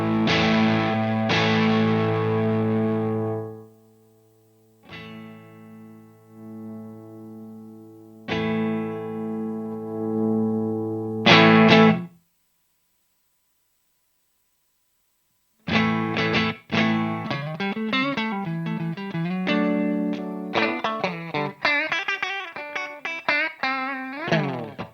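An electric guitar plays through an Orange Terror Stamp amp, first sustained chords that ring out and decay, then a pause, then a busier run of picked notes and riffs, clean but gained up, close and clear with no talk.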